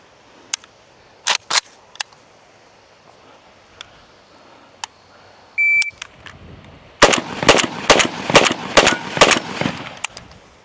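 Zastava M92 carbine firing GROM ammunition with a Bakelite magazine: a burst of six loud, sharp shots in quick succession, preceded by scattered isolated clicks and handling noises.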